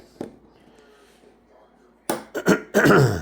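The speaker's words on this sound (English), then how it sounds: "I got a little bit of a cough here" A few sharp coughs burst out close by near the end, after a quiet stretch with faint murmuring and a single earlier click.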